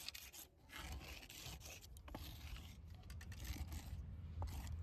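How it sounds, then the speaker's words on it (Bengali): Hands rubbing homemade abir colour powder together, a steady, close dry scraping and rasping that continues without pause and with no talking. "একইভাবে এইভাবে দুটো হাতের সাহায্যে কিন্তু ঘষে নেব"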